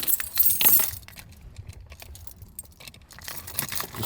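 Keys for a steering wheel anti-theft lock jangle and clink close by in a brief burst near the start, then quieter rattling and handling noises continue through the rest of the clip.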